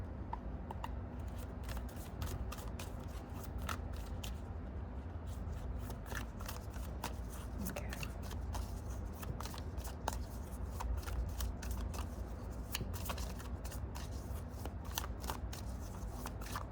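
Oracle cards being shuffled by hand during a card reading, a steady run of soft papery riffles and flicks lasting throughout, close and fairly quiet with no talking.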